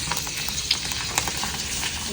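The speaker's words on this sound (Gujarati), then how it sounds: "તો આપણે હવે અહીંયા ભૂંગળા તળીએ છીએ." Bhungla fryums fry in hot oil with a dense, continuous sizzle and scattered sharp crackles, close and moderately loud, with no voices.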